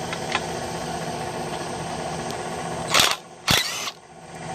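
An old 4.4-volt cordless tool converted to run on a 20-volt battery drives off the half-inch bolts holding a starter on a motor, giving a steady mechanical whir with two sharp louder bursts near the end.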